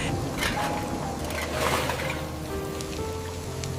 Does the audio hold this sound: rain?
yes